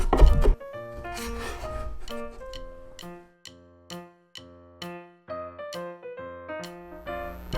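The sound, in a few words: knife mincing garlic cloves on a wooden cutting board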